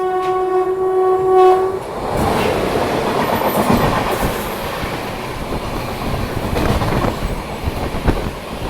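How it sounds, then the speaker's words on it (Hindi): The Doon Express, a daily Dehradun–Howrah train, sounds a long horn blast, then rushes past close by with loud rumbling wheels and clattering carriages. "यही हमारी दून एक्सप्रेस।"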